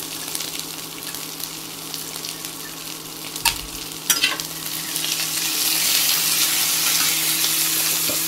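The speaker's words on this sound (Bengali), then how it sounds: "তারপরে আমি টমেটো কুচিগুলো দিয়ে দেবো, কারণ সবগুলো সবজি আমি একবারে ভেজে নেব।" Chopped tomatoes and vegetables fry in a pan with a steady close sizzle, a couple of sharp utensil knocks midway, then a louder hiss as moisture hits the hot oil.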